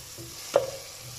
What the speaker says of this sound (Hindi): प्याज मैंने ली है, इसको ब्रीक चॉप कर लिया। इसको थोड़ा सा भूनते हैं